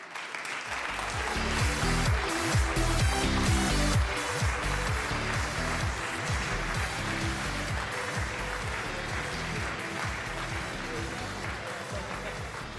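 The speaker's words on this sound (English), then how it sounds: "Big applause." Applause from an audience at the European Charlemagne Youth Prize 2023 ceremony in Aachen fills the clip, a continuous wash of clapping that holds steady throughout.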